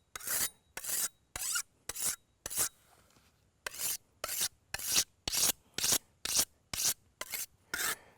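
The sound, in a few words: sharpening a blade on the coarse side of a sharpener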